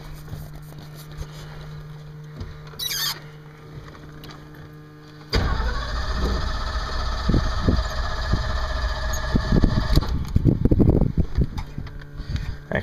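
A 1970 Ford Bronco 4x4 starts: after a quiet background hum and a brief click, the engine cranks and catches abruptly, then settles into a loud, close, rough idle with uneven surges.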